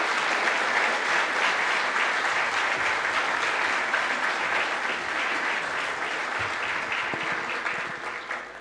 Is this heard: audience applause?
yes